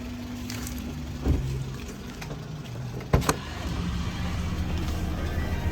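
A 2006 Toyota Avanza seven-seater car running, a steady low engine and road rumble heard from inside the cabin, with a couple of brief knocks.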